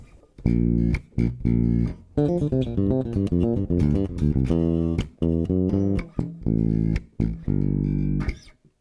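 A bass guitar plays a quick pentatonic fill of plucked notes, several in a rhythmic run, close and clear with brief gaps between phrases.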